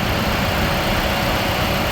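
A used Toyota engine idles steadily at close range, a continuous low rumble with no talk over it.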